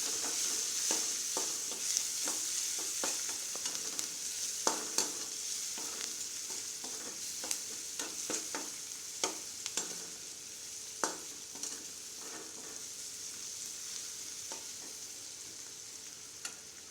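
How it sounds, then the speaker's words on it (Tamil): Chopped onions sauté in hot oil with popped mustard seeds, a constant close sizzle dotted with frequent scraping taps of a spoon stirring the pan. "இப்போ அரிஞ்சு வச்சுருக்கிற வெங்காயத்தை போட்டுக்கலாம். நல்லா ஒரு 2 நிமிஷம் நல்லா வதங்கட்டும்."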